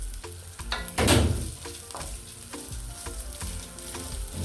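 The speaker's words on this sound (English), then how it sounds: "I want this rice to fry a little bit, just for it to get that golden color." Rice frying in a pan for fried rice, a close, steady sizzle with a loud scrape of stirring early on and soft utensil knocks throughout.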